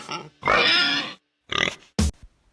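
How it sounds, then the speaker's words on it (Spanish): A pig grunts and oinks in several separate bursts: a long nasal grunt, then a couple of shorter, sharper squeals, close and alone. "Y el cerdo."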